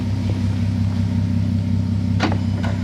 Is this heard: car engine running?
yes